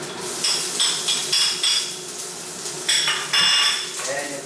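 Onions fry in a pan alongside ginger, with a steady sizzle broken by repeated clinks and scrapes of a utensil against the pan, close and fairly loud.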